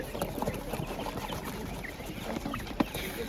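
Broiler chickens clucking at a busy Ukrainian market, with scattered short calls over a steady bed of crowd noise and a sharp louder peep near the end.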